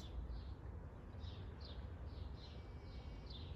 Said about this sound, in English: That sound of the bird is like a music to my ears.